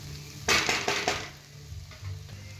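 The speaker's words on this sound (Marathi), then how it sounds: "लाल तिखट ते पण छान परतून घ्यायचं लाल तिखट ह्याच्यात" Onion with red chilli powder being stirred in a hot pan for egg bhurji, a burst of sizzling and spatula scraping that fades to a low frying hiss, close and fairly quiet.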